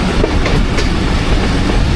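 A passenger express train rolls along the tracks with a steady, loud rumble of wheels and carriages, faint clickety-clack over the continuous roar.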